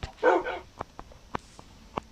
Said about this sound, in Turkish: bizim köpek gelmiş